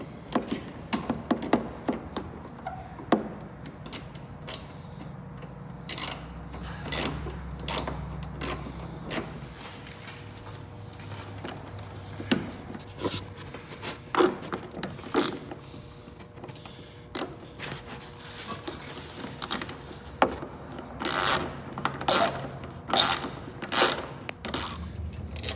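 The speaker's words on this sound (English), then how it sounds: "And now you just screw them back in." Screwing a headlight back into a 2005-2010 Chrysler 300 produces a scattered series of sharp close clicks and taps, irregular ratcheting and handling knocks, over a low quiet background.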